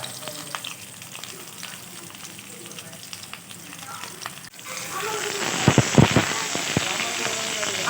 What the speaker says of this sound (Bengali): আলুগুলো একটু ভাজা হলে আমি এর মধ্যে মশলাটা দেবো